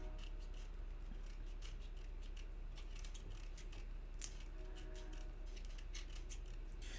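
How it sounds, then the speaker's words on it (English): A knife slices through a raw artichoke in a kitchen, giving a steady, close, scratchy crunching with fibrous snaps throughout and no voices. "actually cut that last piece of that artichoke on an"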